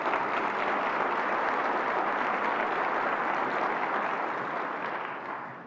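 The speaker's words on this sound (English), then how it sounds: "Give them a round of applause." An audience at a chamber of commerce luncheon claps in a broad, sustained wash of applause that holds steady and then begins to fade near the end, sounding somewhat distant.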